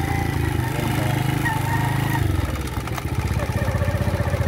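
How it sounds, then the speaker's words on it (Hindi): A Honda CD-70 motorcycle engine runs steadily and loudly throughout, with a droning hum and mechanical clatter from a worn clutch gear and no break in the sound. "ये हूँ की जो आवाज़ आ रही है।"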